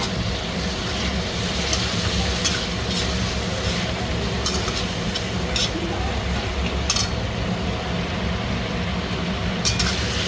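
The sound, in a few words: mushrooms being fried and stirred in spice masala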